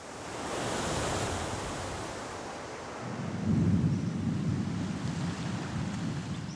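Storm on an island: heavy wind-driven surf and rolling thunder form a dense roar that swells louder midway, with no voices.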